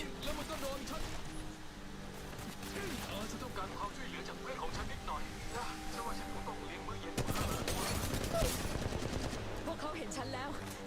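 Rapid gunfire from a Spitfire light machine gun in an Apex Legends Mobile firefight, dense bursts running throughout with a louder, heavier stretch near the end, mixed with game effects and a voice speaking over it.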